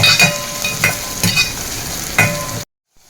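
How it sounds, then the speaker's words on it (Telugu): Green chillies and mustard seeds hit hot oil in a pan with bursts of crackling and popping in several clustered pulses, close and fairly loud, then the sound cuts off abruptly into silence. "మిర్చి కొంచెం ఫ్రై అయ్యాక కొంచెం జీలకర్ర వేసుకోవాలి. ఆవాలు వేసుకుంటున్నాము."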